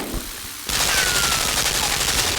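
Video game gunfire from Limbo, a sudden loud burst of rapid shots following a quieter moment, continuing as a dense rattling volley.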